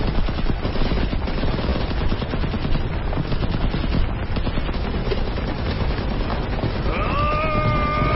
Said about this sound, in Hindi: अभी चुपचाप गोलियां चला